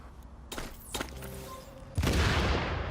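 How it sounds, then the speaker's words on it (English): Immune box exploding in The Division, a sharp burst at the end rising into a loud, broad wash that follows several earlier thumps and clanks amid game sounds. "when I drop my immune box and I explode it"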